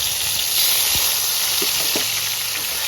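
Onion paste fries in hot oil in a pan spiced with cardamom, giving a steady, loud hiss and sizzle. A few soft pops and crackles rise above it. No voices are heard.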